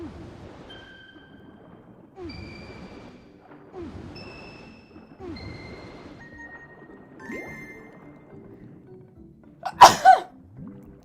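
A single loud, abrupt human sneeze bursts out close to the microphone near the end, cutting over soft, melodic video game music tones from Skyward Sword HD.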